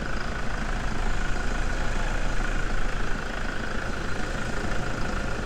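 A Toyota Prerunner pickup engine idling, a steady, even rumble held close and loud throughout with no change in pitch and no voices.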